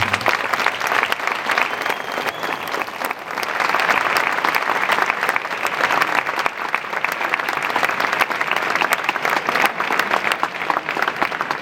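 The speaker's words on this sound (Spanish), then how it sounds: "Un aplauso grande para la orquesta." An audience applauds a symphony orchestra at a concert, a dense continuous wash of clapping from many hands that swells slightly after the first few seconds and stays loud throughout.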